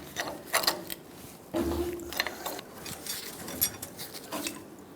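Metallic ratcheting and clicking of tools working a tie rod loose from its adjusting sleeve on a 2008-2010 Ford F250 Super Duty, with irregular scrapes and clanks close by, moderately loud, no speech.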